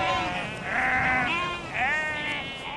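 Sheep bleat on Dartmoor's open moorland, two or three drawn-out, wavering calls rising and falling close by over a soft background.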